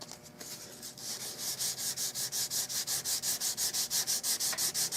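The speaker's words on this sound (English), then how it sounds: "it doesn't take that much to sand it off, really" Super glue residue being hand-sanded off the wooden stock of a Winchester Model 100 rifle during restoration: steady, rhythmic rasping strokes, close and fairly loud, with no talk.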